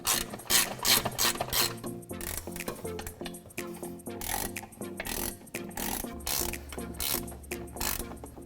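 Bolts being started by hand tool on Edelbrock Elite II polished aluminum valve covers on a Ford F-250, with rapid ratcheting clicks in bursts, close and fairly loud.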